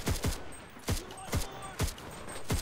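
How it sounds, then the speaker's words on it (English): Gunfire in the video game Enlisted, with distinct sharp shot bursts cracking at regular intervals, roughly five volleys in under three seconds, loud and close over a steady battlefield din with no talk. "it sounds like we're taking shots from this direction"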